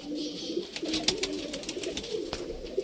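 Soft, continuous cooing from several pigeons, with faint flutters and clicks mixed in, fairly close and steady throughout.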